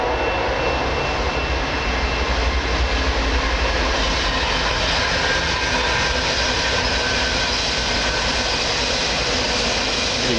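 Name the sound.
train passing on nearby railway tracks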